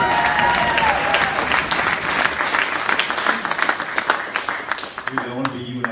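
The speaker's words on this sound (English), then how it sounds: "Another round of applause for Chris Michael" An audience applauds a speaker at a company kickoff event in Austin, a dense, loud wash of clapping lasting throughout and thinning slightly near the end, with voices mixed in.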